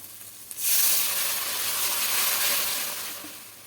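Milk made from powdered milk poured into fried masala in a hot pan for egg malai curry, a sudden loud hissing burst of steam that holds steady and then eases slightly, close and alone.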